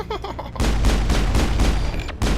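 Player's gun blasting away in the sci-fi shooter Mass Effect, a loud sustained burst of automatic fire after a brief lull, continuing steadily with a short break near the end.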